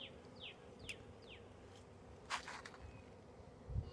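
A honeybee swarm crowds into a hive through the honey gate entrance, giving a faint, steady outdoor buzz with a few brief bird-like chirps and a soft thump near the end.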